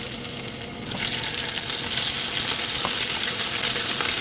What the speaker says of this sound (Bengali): তেলটা গরম হয়ে গেছে এখন মাছগুলো আমি দিয়ে দিচ্ছি